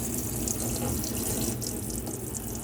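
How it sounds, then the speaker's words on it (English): Cold and hot water gushes steadily from a lifted mixer tap into a sink inside a Hymer Swing motorhome, a continuous close rushing stream with no voices. "you quite literally just lift this tap up"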